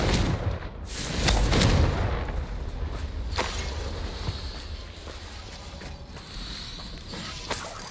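A Confringo blasting curse goes off in Hogwarts Legacy, a fiery magical explosion with a heavy rumbling burst near the start, another sharp crack a few seconds later, then a lingering low roar of battle.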